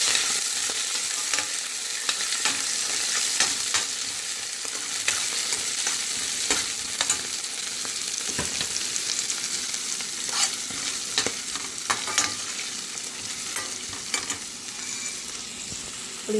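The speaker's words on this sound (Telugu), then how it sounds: "పచ్చిమిర్చి, ఉల్లిపాయ, మెంతం కూర వేసి మంచిగా ఫ్రై చేసుకోవాలి." Green chillies, onion and fenugreek leaves fry in a pan with a continuous hiss of hot oil, broken by frequent clicks and scrapes of a stirring spoon, loud and close with no talking.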